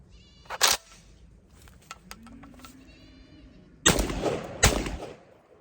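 A Garaysar TR19S shotgun fired at a range with cheap Winchester white box shot shells: loud, sharp blasts, one early and two more close together near the end, with quieter clicks and handling noise between them.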